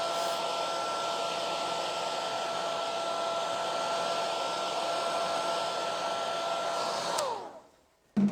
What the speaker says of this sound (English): let me just hit that with the hairdryer properly